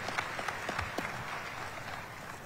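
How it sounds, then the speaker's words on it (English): A conference audience at a national irrigation investment plan launch gives panelists a round of applause: steady, moderately faint clapping from a seated crowd, with a few sharper claps near the start. "Let's give another round of clap to our panelists."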